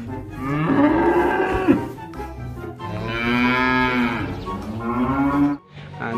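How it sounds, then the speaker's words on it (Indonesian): A dairy cow moos loudly and close by in two long, drawn-out calls separated by a brief pause, with a short third call starting at the very end. "Wow, ada sapi perah teman-teman."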